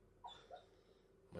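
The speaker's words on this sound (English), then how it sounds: "My dog is having a weird dream in the background." A sleeping dog dreaming, giving soft high whimpers and breathy squeaks in a few quick bursts, faint and close, in a quiet room.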